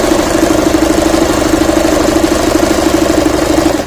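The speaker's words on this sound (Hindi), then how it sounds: "तो मैं पहले मशीन को चलाती हूँ" An Usha sewing machine runs slowly in a steady, continuous mechanical hum with a faint rhythmic knock as it stitches, close and loud throughout.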